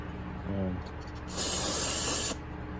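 A short, steady spray of brake cleaner onto a paper towel hisses for about a second, close and fairly loud, after a brief faint voice.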